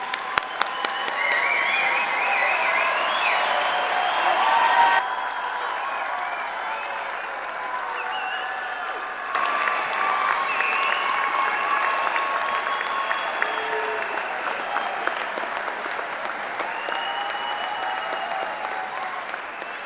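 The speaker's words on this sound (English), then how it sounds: "Let's have a round of applause for the class of 2019" A medical school commencement audience applauds for the graduating class of 2019, a broad sustained wash of clapping that dips briefly in the middle before swelling again and carrying on, with scattered crowd voices mixed in.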